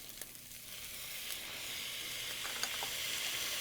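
Chili base of garlic and spices sautéing in a pan, a steady close sizzle and hiss with faint stirring clicks, no voices.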